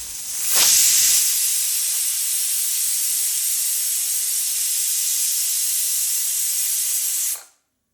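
A pressure cooker on medium flame, cooking palak pulao, lets out a loud, steady hiss of steam that starts with a brief burst, holds for about seven seconds and cuts off abruptly.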